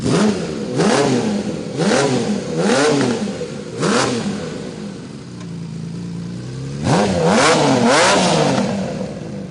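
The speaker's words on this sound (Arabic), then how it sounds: "تعرف ان في موتوسيكل 6 سلندر" A six-cylinder motorcycle engine revs hard several times in quick bursts, pitch sweeping up and down between blips, loud and close with a brief idle lull midway.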